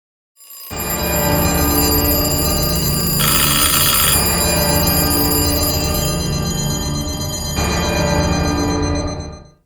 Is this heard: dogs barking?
no